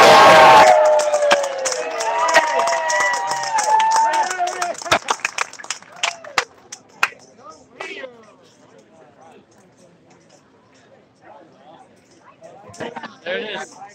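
Crowd at an FLW Clear Lake fishing tournament final weigh-in cheering and clapping loudly at first, then breaking into scattered claps and chatter as the noise dies down, with voices talking nearby.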